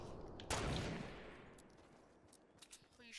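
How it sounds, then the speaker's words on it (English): A single accidental gunshot from a Fortnite weapon, a sharp loud crack that decays into a fading tail, with faint scattered game sounds afterward. "That was an accidental shot."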